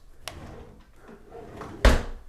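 A bathroom drawer shutting with one firm thud near the end, preceded by faint rattling and rubbing, close and alone without talk.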